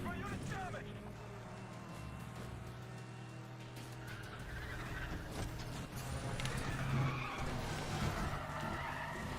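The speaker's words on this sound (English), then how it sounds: "I love the drifting in this game" Car drifting with skidding tyres in The Run racing video game, a continuous engine roar with screeching tyre noise building louder toward the end, while someone talks over it.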